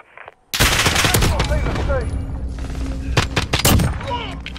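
Rapid gunfire in Modern Warfare, loud close bursts of automatic rifle shots with sharp cracks and rolling echoes after a brief quiet start, dense and sustained with faint voices underneath.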